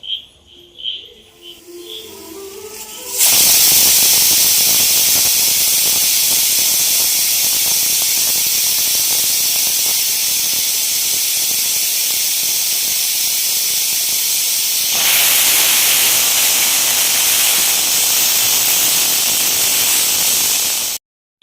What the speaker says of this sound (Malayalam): അപ്പം വെയിറ്റ് ഇട്ട് കൊടുത്തു നാല് ബിസിൽ വരട്ടെ